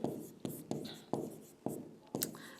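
Chalk or a marker is drawn across a classroom board in a series of short, scratchy strokes, fairly faint, with a soft voice murmuring in between.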